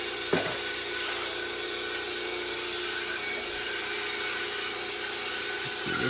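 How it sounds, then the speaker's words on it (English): A hand saw blade cuts through a piece of metal clamped to a table, giving a steady, continuous rasping that runs through the whole stretch at an even level, with a brief knock near the start. "I got the piece of metal here marked where we want to cut it"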